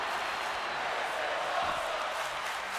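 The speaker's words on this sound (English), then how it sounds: "The crowd chanting, this is awesome, because it is." A steady, dense arena crowd roars and chants throughout a WWE 2K25 wrestling match, with no clear beats or pauses, holding even loudness at a moderate level.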